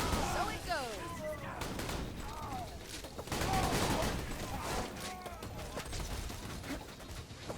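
Chaotic gunfire from bouncing bullets in the video game Borderlands 2 runs as a dense, continuous barrage mixed with game effects. A voice talks over the shooting.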